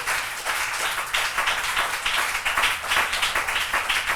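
A church congregation claps and cheers in acclamation, a dense steady wash of many hands clapping with crowd voices rising under it, sustained throughout.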